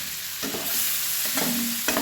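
Eggs frying in a pan with softened onions give a steady, close sizzle, broken by a few scraping stirs of a utensil.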